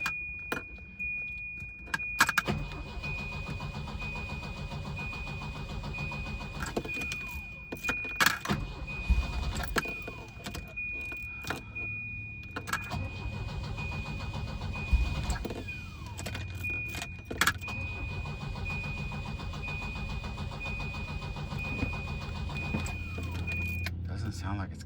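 A Volvo engine cranks repeatedly but fails to start from lack of fuel, with a long steady whirring crank broken by short pauses, a high whine running through it and a voice speaking at times.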